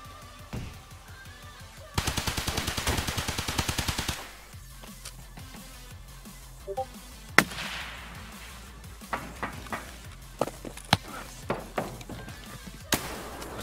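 Gunfire rings out in the shooter game Escape from Tarkov: a rapid, evenly spaced automatic burst lasting about two seconds, then scattered single sharp shots over a quiet background.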